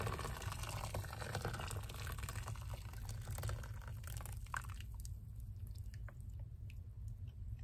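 Boiling water poured straight into a container for a borax crystal snowflake craft, a steady close liquid rush with splashing that continues for several seconds before thinning out.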